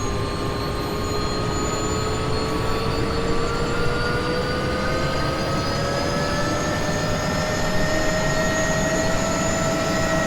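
A Bell 206B3 JetRanger helicopter engine running at full throttle as the rotor speed builds, giving a loud, continuous turbine whine whose pitch rises slowly.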